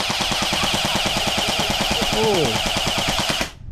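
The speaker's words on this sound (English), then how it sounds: "This is actually a BB gun." Electric BB gun firing in rapid automatic bursts, a dense steady rattle of shots running for several seconds before cutting off abruptly, with a person briefly speaking over it.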